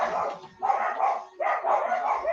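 Dogs bark repeatedly outside a room during an online class, coming in three loud bursts with short gaps between them and no one talking over them.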